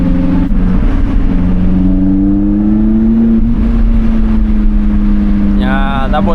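Another car accelerates hard past a Lotus Elise on a Sunday morning country road, its engine note loud, close and steadily rising as it passes.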